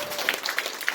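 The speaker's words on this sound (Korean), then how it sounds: "자, 저희 박수 한번 칠까요?" A brief spatter of audience applause closes the first part of a diet lecture, a short, fairly soft patter of many hands lasting about a second, with a few sharper claps standing out.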